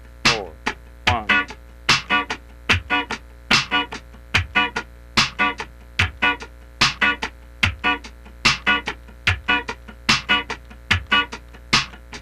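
A funk rhythm guitar plays steady, crisp muted strums in a tight sixteenth-note pattern, accenting the upstroke on the second sixteenth, close and dry with no voices over it.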